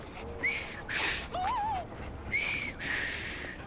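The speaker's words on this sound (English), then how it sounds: "I've just learned to whistle" A character whistles in the Assassin's Creed Syndicate video game, a few short wavering tones with rising and falling pitch, amid faint breathy background noise and no talking.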